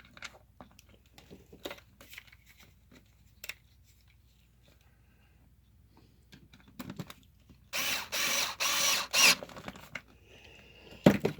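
A Black & Decker Pivot Driver PD360, upgraded to an 18650 lithium-ion battery, drives a screw with a short buzzing whir in a few quick pulses, after a stretch of quiet clicks and handling noises.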